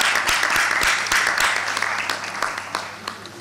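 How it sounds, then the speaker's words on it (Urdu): An audience at a press event in Pakistan gives the police team a dense round of applause that starts strong and gradually thins out over a few seconds. "ان کے لیے بھرپور تالیاں لگائیں ذرا"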